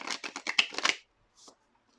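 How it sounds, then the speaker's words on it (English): A tarot deck is riffled briskly for about a second, a fast run of crisp flutters close by, followed by a soft tap as the cards settle. "Just one last shuffle."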